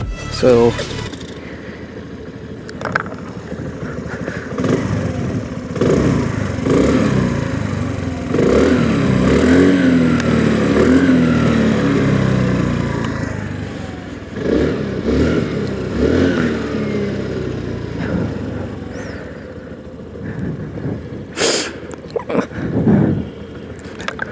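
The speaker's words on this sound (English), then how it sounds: "let me give you the exhaust note of the" A Honda Grazia scooter engine idles, then revs up and down several times, its exhaust note rising and falling close to the listener.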